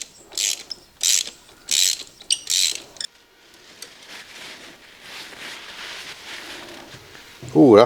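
Lotus Elan engine, parked four years, cranked over with its spark plugs out: five quick, even bursts of starter whir and mechanical clatter, then a quieter hiss and rattle until a louder clunk at the end.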